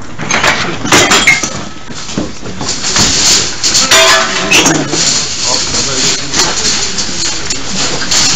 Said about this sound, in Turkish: Cam sesi!